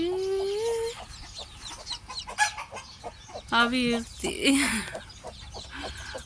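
Hens cluck and cackle close by while a person talks nervously over them.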